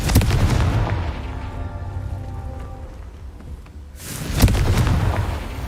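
Confringo fire spell explosion in Hogwarts Legacy, a heavy booming blast with a crackling rain-like roar that fades into a low hum, then a second loud burst hits near the end.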